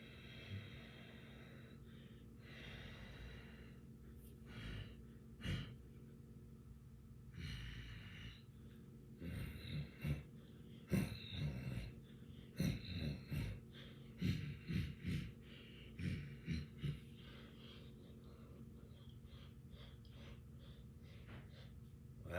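Breathing exercise with forceful nasal exhales and snorting breaths, quiet and close, coming in irregular clusters that grow busier toward the middle, with no talking.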